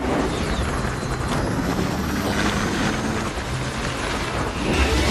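A helicopter in a Mission: Impossible film scene gives a loud, continuous whirring roar of rotor and engine, with a steady chopping texture throughout and other action noises mixed in.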